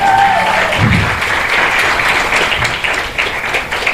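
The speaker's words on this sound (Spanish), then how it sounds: "¿Cuánto le dan un aplauso fuerte a Dios por eso?" A church congregation claps loudly and steadily for several seconds, a dense wash of many hands with a brief tone and faint voice at the start.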